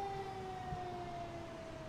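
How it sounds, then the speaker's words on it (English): A distant emergency vehicle siren, fire truck or rescue ambulance, wails as a faint, steady, slowly falling tone over street background noise. "Ambulance. What is that? Fire truck. Rescue."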